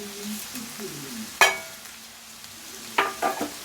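Steady hissing sizzle of ginger frying in oil in a pan, with a couple of sharp metallic scrapes from stirring and faint voices in the background.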